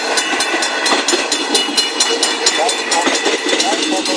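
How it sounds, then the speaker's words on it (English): A long train passing a level crossing in Detroit, loud and close, with continuous rolling rumble, squealing and rhythmic clicking of wheels over rail joints. "These gates might go up during the train passing."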